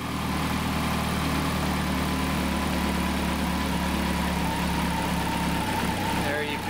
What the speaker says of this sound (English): Take a little while for the engine to warm up